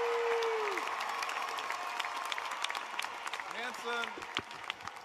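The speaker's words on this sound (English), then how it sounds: "will the faculty, associates, alumni, parents, and friends of the degree candidates of Hanson College please rise and applaud the candidates" Guests rise and applaud degree candidates at a Rice University commencement ceremony, a broad steady wash of crowd clapping under a brief spoken word from the announcer.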